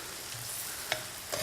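Food sautéing in a pan, a constant close sizzle with a couple of quick utensil clicks.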